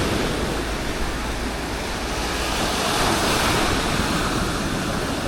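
Ocean waves surging at Busan on an overcast day, a loud, continuous roar of surf heard close up, with wind buffeting the microphone and no clear breaks between swells.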